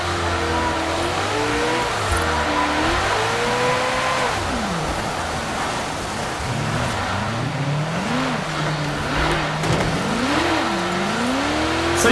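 A Ferrari J50 drifts on an ice rink in a video game, its engine revving and swooping up and down continuously and loudly with faint tire noise and no talking.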